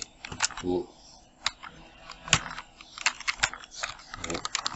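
Keys on a computer keyboard are pressed in irregular clusters of sharp, close clicks, with pauses between bursts and a quiet room behind them.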